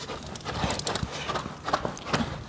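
A horse trotting at a steady cadence, hooves clopping in an even rhythm at moderate distance over a noisy background, with a faint voice in the background.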